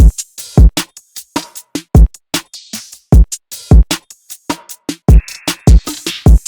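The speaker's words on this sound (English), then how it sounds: "And then I also put in a hi-hat MIDI." Crisp hi-hat ticks alternate with punchy kick hits in a steady, tight RnB beat pattern made in FL Studio, loud and close.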